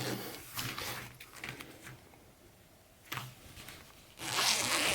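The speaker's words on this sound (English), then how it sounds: "And this type of zipper is the one where you press down and it locks." A metal zipper runs along a handmade tooled leather purse in a few close, scratchy pulls with pauses between, ending in a longer, brighter zip; quiet workshop setting with no talking.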